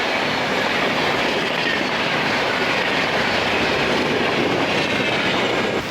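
The 13697 Gaya–Delhi Amrit Bharat Express rumbles along steadily, a dense continuous roar of wheels and carriages with faint clickety-clack, heard from on board with no talk.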